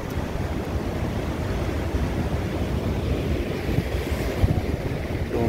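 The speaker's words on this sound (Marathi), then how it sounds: "धरण आता ओव्हरफ्लो होऊन वाहत आहे." Water pours over an overflowing dam on the Tarali river in the rain, a loud, steady, roaring rush that stays constant throughout with no voices.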